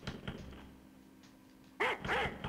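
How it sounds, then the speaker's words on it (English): Dogs barking in the retro video game Wolfenstein 3D, a few short sharp barks near the start and a louder cluster of barks toward the end over a low game hum. "Oh, got some dogs here."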